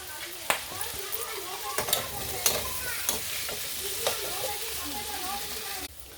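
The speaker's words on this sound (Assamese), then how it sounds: "আৰু মোৰ আলুখিনি ফ্ৰাই কৰা হৈ গৈছে" Potato pieces fry in a pan with a steady sizzle, punctuated by repeated clacks of a spatula stirring them every second or so.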